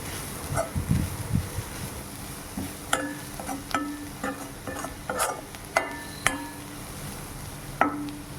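A spoon scrapes and clinks through chili powder and salt in a pan, a run of short irregular strokes over a low sizzle, fairly close, with no talking.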